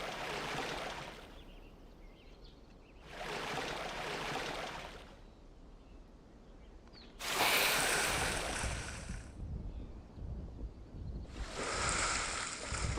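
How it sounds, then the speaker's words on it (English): In the game Game Guru Max, footsteps slosh through water in broad, repeated splashing bursts separated by short gaps, fairly loud and close, with a wet, rushing texture and no talk. "there's a bit of sloshing sounds of us walking through the water"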